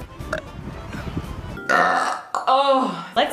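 Several loud, close burps from a woman, one deep rumbling belch followed by shorter ones, with brief vocal noises between them.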